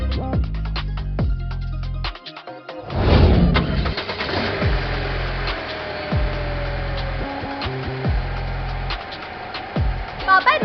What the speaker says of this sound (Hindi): पापा आज गाड़ी मैं चलाऊंगा।